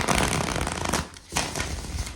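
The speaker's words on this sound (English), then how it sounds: "I'm going to shuffle the cards and get to it." Tarot cards shuffled by hand in a steady riffling run, a brief pause near the middle, then the papery shuffling resumes, close and fairly quiet.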